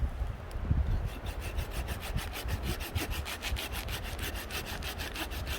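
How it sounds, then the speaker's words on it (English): A saw cutting into an old, resin-rich tree branch for fatwood, a close, steady back-and-forth rasp of even strokes that carries on throughout with no talking. "So let's cut into that one and see if there is actually anything"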